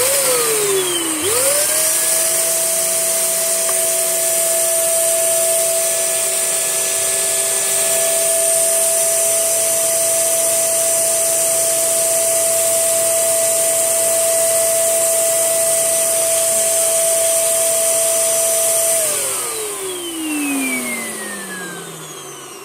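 A Tesco own-brand vacuum cleaner runs continuously on a household mess test, a loud steady motor whine with a high tonal hum that holds evenly, then winds down as the machine is switched off near the end.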